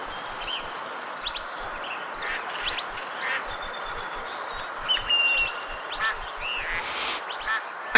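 Ducks quack amid a steady wash of outdoor ambience in the Duck Dynasty video game's duck hunt, with scattered calls rising and falling over eight seconds and no talking.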